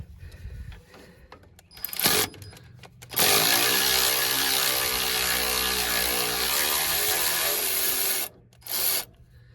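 Mechanical ratcheting as the screw on a Ditch Witch 5110's transmission holder plate is loosened: a couple of short bursts, then a loud, close, steady grinding whir for about five seconds, and a final brief burst, with no talking.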